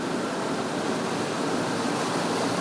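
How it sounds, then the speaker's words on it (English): A vehicle crosses the Crooked River near Talbotville in the Victorian High Country, wading through water about a foot deep. The rushing, splashing wash stays steady and loud for the whole stretch, with no voices. "the second river crossing out of Talbotville along the Crooked River"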